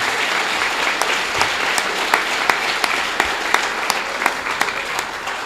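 Steady applause from an audience at a primary school prestige ceremony honouring the principal, a dense continuous wash of clapping with a few sharper individual claps standing out throughout.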